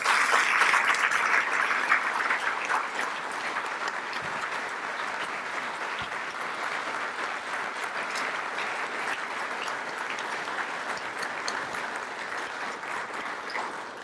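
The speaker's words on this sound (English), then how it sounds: "give them one last round of applause" Sustained applause from an award ceremony audience for the finalists, a dense, even roar of clapping that starts slightly louder and holds steady throughout without talk.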